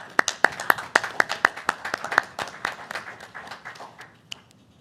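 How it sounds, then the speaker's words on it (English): A small school board meeting audience claps for school staff, a sparse round of distinct, fairly even hand claps that thins out and fades over a few seconds, somewhat distant in a large room. "let's go ahead and give them one more round of applause"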